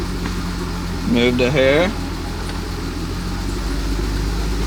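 The engine of a wrecked BMW idles steadily at close range, a low continuous rumble while the car eases a few feet forward and back, with a brief spoken phrase over it.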